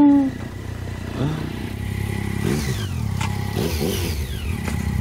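Motorcycle engine revving in the video game Enslaved: Odyssey to the West, a steady mid-pitched engine drone with a couple of rising revs and rattly bursts partway through, fairly loud and without talk.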